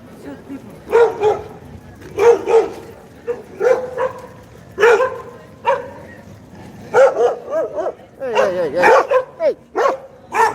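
Several dogs barking on a street in Oaxaca, repeated loud yapping bursts in irregular clusters, fairly near, with occasional whines and people talking in the background.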